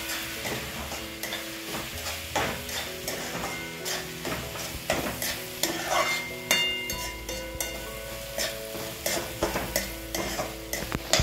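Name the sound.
stirring turmeric, garam masala, coriander into onions in pan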